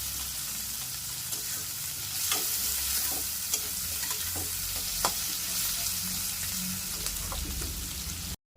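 Potatoes frying in a pan with a continuous close sizzle, while a utensil stirs them in irregular scrapes and clacks, ending abruptly.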